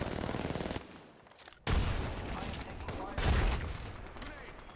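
Gunfire in the video game Apex Legends comes in loud bursts of rapid shots, separated by a brief quieter gap, with a voice talking over the combat.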